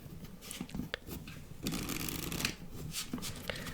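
A deck of playing cards being shuffled, a quick riffling flutter with a few sharp snaps, close by and alone.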